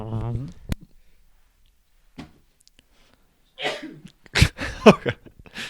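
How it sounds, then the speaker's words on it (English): A voice speaks briefly, then after a quiet gap come a few close, sharp sneezes in quick succession mixed with breathy sounds. "We got a hat trick of sneezes going on over I there."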